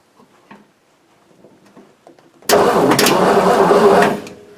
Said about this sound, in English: start a relay up here, which Ford makes it easy, and see if the engine will turn over